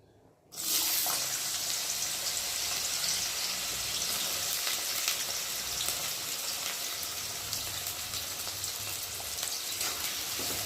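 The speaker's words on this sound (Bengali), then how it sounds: "গাজরটা একটু ভালো করে ভেজে দেবো।" Carrots for fried rice sizzle loudly in a hot pan, a dense steady frying hiss that starts abruptly after a brief quiet moment and carries on unbroken with no talking.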